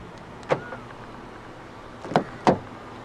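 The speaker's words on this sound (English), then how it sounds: "Press this chrome button right here to lock the doors." A 2013 Kia Cerato's door locks actuate via a chrome keyless button with a quick mechanical clunk, followed a moment later by two more rapid clicks of the locks engaging.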